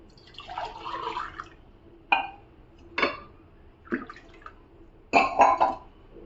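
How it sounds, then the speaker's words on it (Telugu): Water splashes into a pan for cooking upma in uneven bursts, a longer pour first then several short splashy gushes, close and moderately loud with no talking. "రెండు నీళ్ళు పోస్తున్నాను అనమాట"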